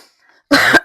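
A single sharp cough, loud and close, breaks a near-silent pause.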